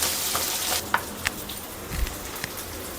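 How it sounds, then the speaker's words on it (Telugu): Onions and crushed garlic frying in a pan, a steady hissing sizzle with occasional sharp pops and spatters, close and fairly quiet, no talking. "ఇంక ఇందులో ఆనియన్స్, తెల్లగడ్డ దంచి వేస్తున్నాను. ఇంక ఇది బాగా ఫ్రై చేసుకోవాలి."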